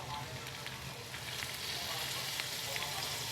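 Eggs and chopped tomato sizzle steadily in a hot pan, a continuous crackling hiss at moderate volume with occasional faint pops and no speech over it.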